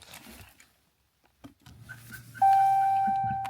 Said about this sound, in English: See, alarm goes off.